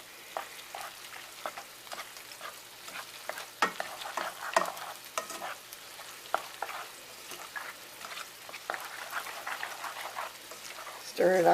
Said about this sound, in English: So I'm just going to stir this all together.